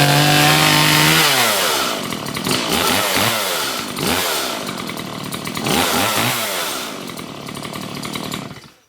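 A Stihl MS 180 C-BE chainsaw runs with its chain spinning, loud and close, revving up and down in several swells before cutting off at the end.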